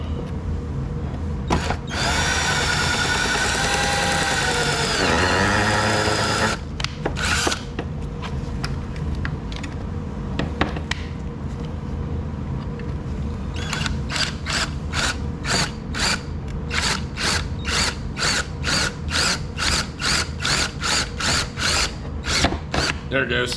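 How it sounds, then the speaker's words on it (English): A power drill drills out a fastener on a Mercedes W140 front bumper, whirring steadily for a few seconds, then stopping; mechanical rattling and a run of rapid, rhythmic clicks follow, close by. "and then proceed to drill it out"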